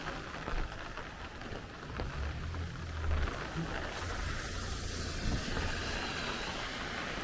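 Heavy rain pours steadily onto streets between Bath Beach and Coney Island in Brooklyn, a dense continuous hiss with a low rumble of passing traffic underneath.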